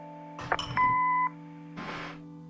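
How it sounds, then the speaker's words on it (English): In a video game, a single steady electronic answering machine beep, held for about half a second, follows a brief burst of chirpy tones and a low background hum, then a soft noise. "Leave a message after the beep."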